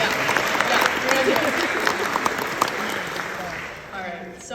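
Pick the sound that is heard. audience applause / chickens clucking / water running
audience applause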